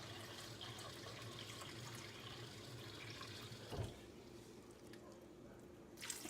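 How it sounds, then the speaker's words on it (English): A tap runs a steady, faint stream of water into a measuring cup while preparing dried beans for an Instant Pot, with a soft rustle near the end and no talking. "we're going to go ahead and add in our water"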